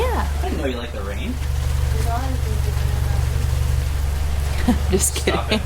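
Steady rain falling around a parked 2022 Subaru BRZ, a constant close hiss with a low rumble beneath, while people talk over it.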